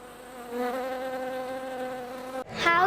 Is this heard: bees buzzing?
yes